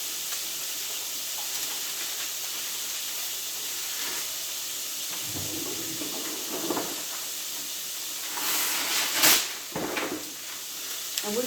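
Salmon patties frying in hot oil give off a steady hiss and sizzle throughout, with a few soft thuds and a louder crackling flare near the end.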